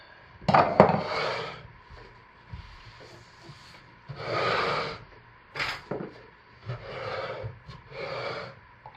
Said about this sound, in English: Let's hand stir the fragrance in.